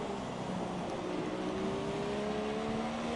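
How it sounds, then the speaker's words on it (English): F1 car engine in a racing video game, running over curbs at Britain or Hungary, a steady loud engine drone with rising harmonic whine and a continuous low rumble throughout, no talking. "You can hear the rumble when he runs over the curbs."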